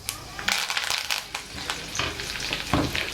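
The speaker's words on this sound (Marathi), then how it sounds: "मोहरी तडतडले की कढीपत्ता," Mustard and cumin seeds crackle in hot oil with curry leaves dropped in for a stuffed brinjal dish, producing sharp bursts of sizzling and spitting pops in uneven clusters, close and alone.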